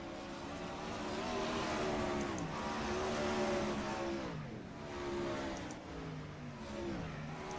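Dirt track race cars roar around the circuit, engines revving loud and near with rising and falling pitch as they pass one after another in a continuous pack.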